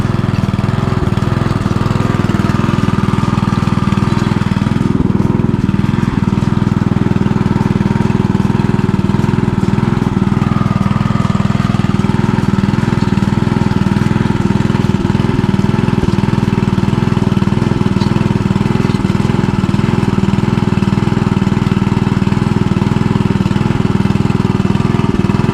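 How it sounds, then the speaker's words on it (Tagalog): A steady engine drones continuously at a constant loud level, a low mechanical hum with no pauses throughout. "Ayun yung makina."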